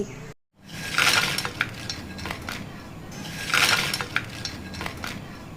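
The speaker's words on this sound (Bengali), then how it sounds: "শব্দ শুনে নিশ্চয়ই বুঝতে পেরেছেন আমাদের আমুদে ফ্রাইটি কতটা মুচমুচে আর ক্রাঞ্চি হয়েছে" Crisp, golden-brown deep-fried amudi fish is broken apart up close, giving two sharp crunchy bursts about three seconds apart against a light clatter.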